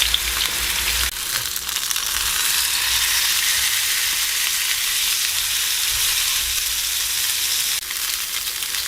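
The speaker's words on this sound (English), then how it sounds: "And I'm gonna grab our backstrap. Place it down in the pan." Venison backstrap searing in a hot pan, a loud, dense, continuous sizzle close up that holds steady for almost nine seconds with no talking.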